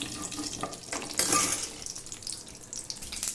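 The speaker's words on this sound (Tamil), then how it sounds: "எண்ணெய் காஞ்ச வாட்டி கடுகு மட்டும் போட்டு தாளிச்சிக்கிறேன்" Crackling, spattering sizzle of mustard seeds popping in hot oil for tempering mint-coriander chutney, steady and close with a brighter burst of spluttering partway through.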